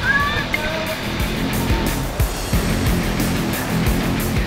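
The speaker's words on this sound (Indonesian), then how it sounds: "Ombak yang datang membuat air berbuih dan mengganggu pandangan." Ocean waves rushing and foaming over a rocky reef shore, a continuous churning wash with low rumbling surges and splashes, close and loud, with faint higher tones drifting in early on.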